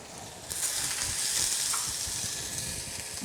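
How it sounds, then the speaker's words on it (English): Chopped onion dropped into hot oil in a pot on a commercial stove, bursting into a loud, steady, crackling sizzle that continues without a break. "So into our hot oil goes, oh, you can hear the sizzle."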